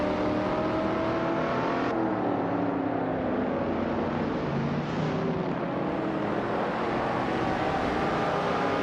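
Race cars, including a 1970 Plymouth Superbird, roaring around a track, a loud, dense, continuous engine drone with shifting revs and overlapping cars passing.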